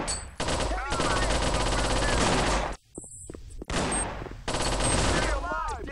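Sustained automatic gunfire in the Mobile Forces video game, loud rapid bursts from close range that break off briefly near the middle and then resume, with a whooshing effect toward the end.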